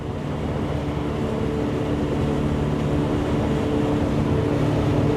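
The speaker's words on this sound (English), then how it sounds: "You can feel the boat just kind of break free and want to go faster." Jeanneau NC 1295 Fly motorboat running on plane at around 4,500 RPM, giving a steady, loud low engine drone with rushing water and wind noise, no voices.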